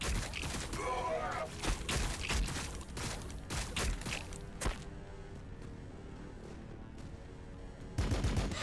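Bursts of gunfire in the video game Battlesector, sharp repeated shots and rattling volleys, a quieter lull in the middle, then another burst at the end, mixed with game sound.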